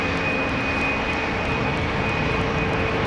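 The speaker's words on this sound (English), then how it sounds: "Bulgaria Bombardier C series 300 A220 going to Sofia" A Bulgaria Air Bombardier CS300 (A220) jet departing Amsterdam Schiphol for Sofia gives a steady, broad engine roar with a faint whine, holding at an even level across the whole span with no voices.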